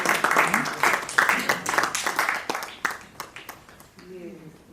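An audience at a Jaipur poetry gathering claps, sharp uneven bursts of applause mixed with talking voices that fade near the end.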